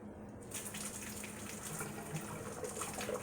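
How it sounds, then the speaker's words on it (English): Water from cooked quinoa pours steadily through a strainer into a sink, a continuous close splashing gush lasting a few seconds. "So I'm going to go ahead and drain that out just the same way I drained it the first time."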